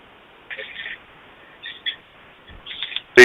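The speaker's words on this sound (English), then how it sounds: "Somebody doesn't have their phone muted." A phone left unmuted rings or chimes during a guided breathing meditation, giving short tonal bursts that recur several times and end in a louder tone.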